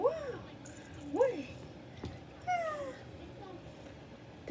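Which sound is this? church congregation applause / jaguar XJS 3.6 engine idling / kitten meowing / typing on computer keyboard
kitten meowing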